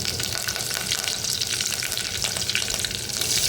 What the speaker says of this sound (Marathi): तेल गरम झालं की याच्यामध्ये जिरं घालायचं आहे जिरं चांगलं फुलू द्यायचं आहे कढीपत्ता घालायचा आता